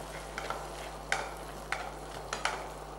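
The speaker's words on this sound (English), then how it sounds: "let this simmer away" An omelette with Italian seasonings simmers in a pan, a soft, quiet sizzle broken by a few light scraping stirs.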